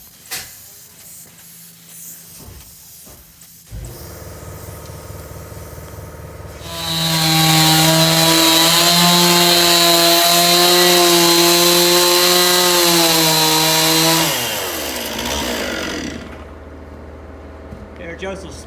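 A chainsaw cuts window slots for angle iron into the log walls of a custom Montana log home. It starts with a brief burst, then runs loud and steady for about eight seconds before winding down to idle, with faint talk at the edges.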